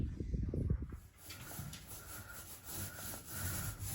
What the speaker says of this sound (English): My friend's in there filling the holes and sanding them back.